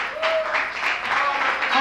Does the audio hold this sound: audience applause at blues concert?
yes